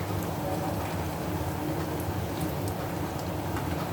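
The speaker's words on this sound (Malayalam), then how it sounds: "ലോ ടു മീഡിയം ഫ്ലെയിമിലിട്ട് നമുക്ക് ഇതൊന്ന് ഫ്രൈ ചെയ്തെടുക്കാം." Crispy onion vadas made with gram flour fry in hot oil over a low to medium flame, giving a dense, steady crackling sizzle close by with no pause.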